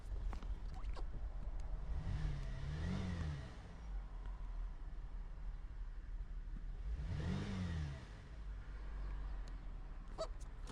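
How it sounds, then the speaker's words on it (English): A 2011 Chevy Traverse engine idling with a misfire, a steady low running rumble that swells twice into brief revs before settling back. "It's definitely misfiring."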